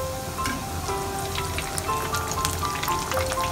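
Chinese-style chicken popcorn sizzles steadily in hot oil, a close, continuous crackle with scattered sharper pops and a low hum underneath.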